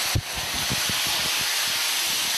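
Beans stir-fried with chili and coriander in a wok over high heat give a continuous loud sizzling hiss that opens with a sharp burst, with no talking.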